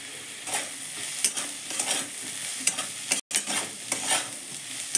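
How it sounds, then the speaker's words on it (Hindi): Carrot and beet bhaji seasoned with coriander and salt, stirred and fried in a pan: a steady close sizzle broken by repeated scraping spatula strokes, with one brief silent gap. "और इसको अच्छे से भूनेंगे"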